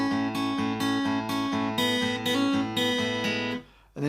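Guitar picking through bar 3 of a song at full tempo, a quick run of bright plucked notes over a few seconds, close and clean, then ringing out and stopping abruptly.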